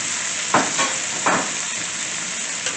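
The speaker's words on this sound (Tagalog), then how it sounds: "Gisa natin yung kalabasa." Squash sautéing with shrimp in a hot pan, giving a continuous sizzle broken by two or three loud stirring scrapes, close and without speech.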